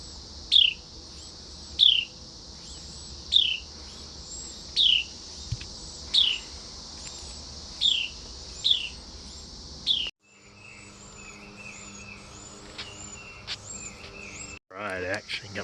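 Baby Carolina wrens in a nest tucked inside a bike bag give a regular series of short, high chirps, about one each second, then a busier stretch of mixed tweets and peeps near the end.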